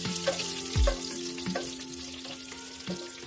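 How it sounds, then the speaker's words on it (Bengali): Dried red chilies, bay leaves and whole cumin sputter in hot oil as a tempering for prawn khichuri, a moderate sizzle with a few soft clinks and a low thump, no speech. "একই তেলের মধ্যে ফোড়নের জন্য দিয়ে দেব 2 শুকনো লঙ্কা, 2 তেজপাতা আর সামান্য পরিমাণে গোটা জিরে। এগুলো ভেজে নেব 10-15 সেকেন্ডের জন্য।"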